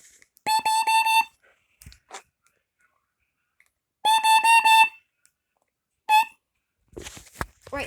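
Kidde smoke or carbon monoxide alarm being tested, sounding loud, sharp repeated beeps in two bursts of about four quick pulses each, with clicks and handling noise between and after.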